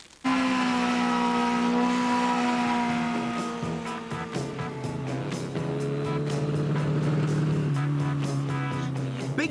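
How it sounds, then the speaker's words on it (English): A Norton Commando motorcycle is kick-started and its engine catches, then runs loud and close with a throbbing, steady note that dips and rises in pitch over several seconds. "the sound of a Commando being kick-started"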